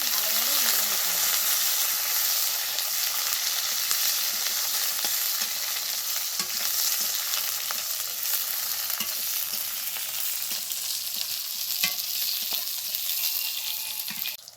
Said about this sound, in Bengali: বেগুনটা দিয়ে দিচ্ছি। এটাকে একটু ভালোভাবে ভেজে নিতে হবে।